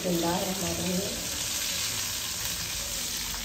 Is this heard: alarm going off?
no